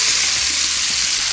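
Salsa mexicana hits a hot oiled skillet and sizzles loudly, a dense, even hiss of frying that fills the moment, close up and without any talking.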